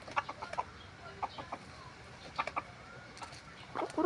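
A small talisaying gamecock rooster clucks in short, scattered bursts, fairly close but soft, with quiet gaps between the clucks.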